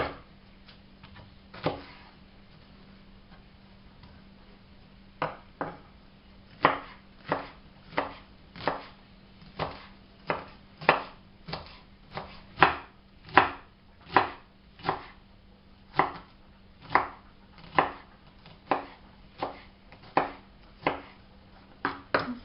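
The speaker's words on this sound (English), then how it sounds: "I'm going to chop up some vegetables quite finely" Vegetables for a lentil loaf, such as onion and celery, are chopped finely on a board with a knife. The sharp, close chops come in a fairly even, quickening rhythm over about twenty seconds.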